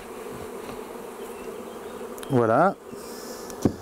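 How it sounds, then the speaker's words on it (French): Honey bees buzz steadily around honey frames as a beekeeper clears them of bees. A short spoken word cuts in briefly near the end. "Je suis en train de débarrasser les cadres de miel"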